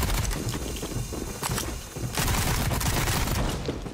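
Rapid video game gunfire rattles continuously while shooting out windows, a dense, loud burst of shots that carries through the whole stretch with no talking.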